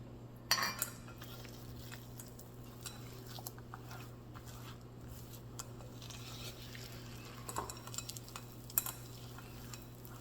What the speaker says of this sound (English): We're just going to stir it up.